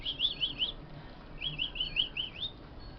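A baby bird chirps while being hand-fed, two quick bursts of high rising peeps, close and clear with no talking.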